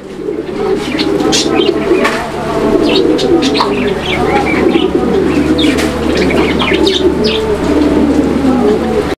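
Pigeons coo steadily in a low, rolling chorus, with scattered chirps from other birds and a faint voice in the background.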